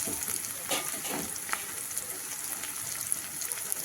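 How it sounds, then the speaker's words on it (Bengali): Chopped garlic fries in a pan while sanche greens are cooked, giving a soft, steady sizzle with a few faint stirring taps, fairly quiet and close. "এবারে কুচি করে রাখা রসুনটা দিয়ে দেওয়া হচ্ছে"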